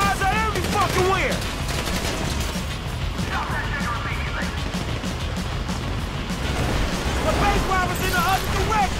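Sustained rapid gunfire and bursts of shooting in Grand Theft Auto V rattle on throughout, loud and dense, with occasional voices mixed in beneath the fire.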